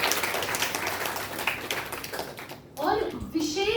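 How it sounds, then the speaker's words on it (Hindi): An audience, children among them, claps at a Cerebral Palsy Day celebration at NIEPVD, giving a steady burst of applause for a couple of seconds before it breaks off and a voice starts speaking. "तो चलिए जोरदार तालियां एक बार दोबारा सबके लिए।"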